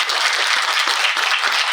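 An audience at a speech event applauds in a dense, steady wash of clapping, loud and close, with no pauses.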